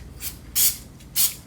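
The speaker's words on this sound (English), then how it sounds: "just a little bit of Super 77 or any 3M spray adhesive, and then just lightly spray" 3M Super 77 spray adhesive is misted lightly from a can in three short hissing bursts, the second and third longer and louder, close to the listener.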